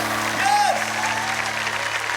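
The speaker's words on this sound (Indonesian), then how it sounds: "Tepuk tangan buat Tuhan Yesus." Congregation applause in a church service, a steady wash of clapping that holds evenly across the clip, with a sustained tone and faint voices underneath.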